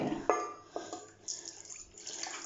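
Water splashes and trickles as animal water bowls are refreshed, soft close pouring and dripping with a few sharper splashes, fairly quiet.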